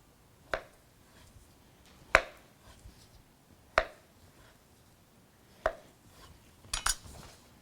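A knife chops vegetables on a cutting board in slow, spaced strokes, each a crisp close thud, ending with a quicker cluster of cuts.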